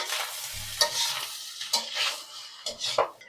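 Cooked rice is stirred with ghee, salt and sugar in a pan, producing close, uneven scraping strokes of a spoon against the metal with a light sizzle underneath and no talking.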